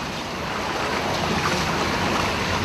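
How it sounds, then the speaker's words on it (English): Ocean surf building up to break during a stormy hurricane-season swell, a steady roar of rushing water mixed with strong wind buffeting the microphone, loud and continuous with no voices. "It's getting ready to break, guys. That is about to bust in quick."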